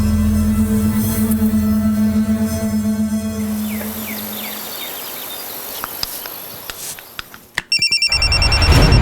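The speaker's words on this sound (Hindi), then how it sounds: "मुझे यहीं कहीं से मोबाइल की आवाज आई" A mobile phone rings with a steady electronic tone that fades, followed by faint clicks and then a sharp, bright ringing pattern that cuts in loudly at the end, with no speech.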